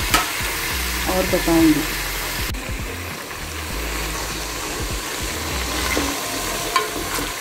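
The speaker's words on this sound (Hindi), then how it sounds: "इसमें बैगन शामिल कर दिया है फ्राई करने के लिए, और इसको मैं फ्राई कर निकालूंगी" Brinjal pieces fry in hot oil for Hyderabadi bagara baingan, a steady loud sizzle with stirring scrapes throughout, and someone speaks briefly over it.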